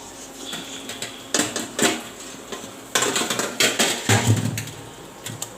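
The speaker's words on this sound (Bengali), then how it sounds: "এদিকে আমি শাকটাকে নেড়ে নিচ্ছি" A spatula scrapes and clatters against a hot pan as cooked saag greens are stirred, a run of close metallic knocks and scrapes in irregular bursts with no talk.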